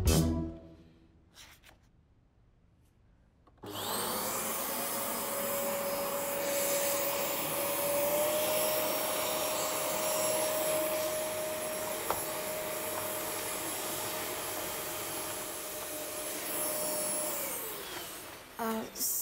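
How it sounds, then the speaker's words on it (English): A vacuum cleaner switches on after a short quiet stretch and runs at a steady, loud whine for about fifteen seconds before winding down near the end. "I'll vacuum later."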